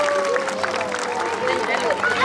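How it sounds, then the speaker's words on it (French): Audience applauding trained vultures at the close of a bird show, steady clapping and crowd noise with a whistle-like tone and some voices mixed in. "On peut applaudir nos vautours"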